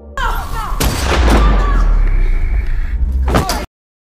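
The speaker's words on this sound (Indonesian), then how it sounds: "lalu dengan nekat melepaskan tembakan yang mengenai Vladimir" A gunshot rings out in a film scene over a loud, dense soundtrack, with a sharp crack near the start and another burst near the end before the sound cuts off abruptly.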